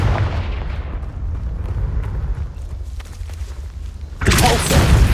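Confringo fire spell in Hogwarts Legacy gameplay, a deep rumbling whoosh that fades into a low roar, then a sharp loud blast burst near the end, close and heavy with no speech over it.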